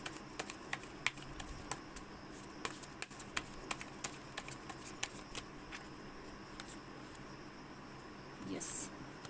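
Tarot cards drawn and shuffled from a deck, a run of crisp irregular snaps and flicks close by, with a brief rustling burst near the end over a quiet room.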